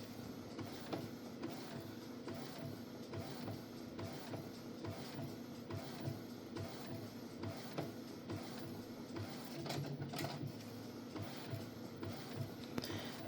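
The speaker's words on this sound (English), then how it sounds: "you always want to allow the image to finish printing before you attempt to take it from the tray" An Epson EcoTank 8550 converted for DTF film printing runs through an image, a steady mechanical whir with regular rhythmic clicks and shuttling of the print head, continuous and close.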